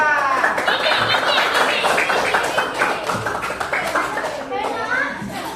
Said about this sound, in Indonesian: Oke, kita beri aplaus ke kelompok 2